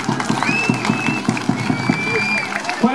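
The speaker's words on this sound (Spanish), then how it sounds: "Un aplauso para Corleone" A crowd applauds at a canine presentation for a dog named Corleone, with steady clapping and a few scattered voices.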